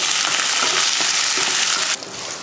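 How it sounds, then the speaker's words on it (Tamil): Onion, garlic and curry leaves sauté in a pan for a chutney, a loud, close hiss of frying oil that drops suddenly near the end. "ஒரு வெங்காயமும் 3 பல் பூண்டு, கொஞ்சம் கருவேப்பிலை போட்டு வதக்கிடுவோம்."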